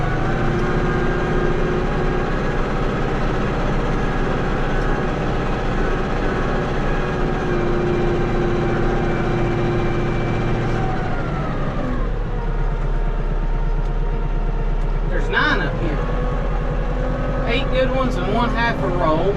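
Farm vehicle engine running steadily, a loud low diesel drone that shifts pitch and settles lower as it is changed out of road gear, with brief clunks near the end.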